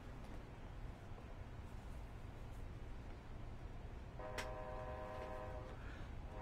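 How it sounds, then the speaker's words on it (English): A steady low rumble of a train in Flight Simulator X runs throughout, joined near the end by a distant horn blast, faint under the background noise. "That's cool. You can hear the train."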